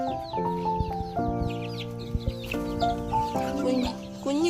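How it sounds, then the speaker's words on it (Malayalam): Chickens clucking inside a coop where young chicks are raised, several close birds giving overlapping drawn-out clucks and calls in an uneven, continuous chatter. "കുഞ്ഞു കോഴിക്കുട്ടികളെ നമ്മളിവിടെ വളർത്തും"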